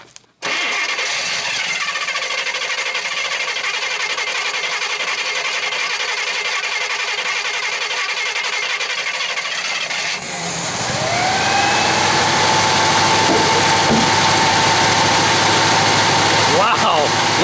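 A 1966 Chevy Biscayne big-block V8 with a dead cylinder cranks briefly and then fires, settling into a loud, steady, close idle that rises slightly and holds.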